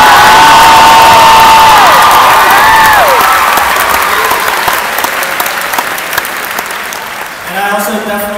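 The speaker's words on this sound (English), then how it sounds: "Could we get a round of applause for all these sweet dance crews?" A live audience at a dance crew event claps and cheers loudly, with whoops over the applause, which fades gradually, leaving crowd murmur and some talking near the end.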